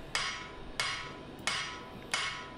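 Four sharp hammer blows ring out at a steady pace as a knife blank is forged toward a tapered full-tang handle, each strike bright and metallic with a short ringing decay.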